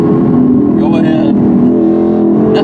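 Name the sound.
Dodge Charger speeding past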